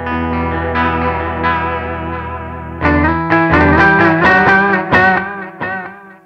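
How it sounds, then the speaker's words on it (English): An electric guitar runs through a Belle Epoch Deluxe echo pedal set to long delay times, sustained chords smearing into repeating echoes, then a busier run of plucked notes stacking into a dense, shimmering wash. "if you set longer delay times, you get kind of a whole different picture."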